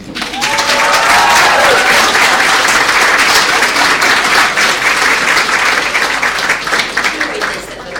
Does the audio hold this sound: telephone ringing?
no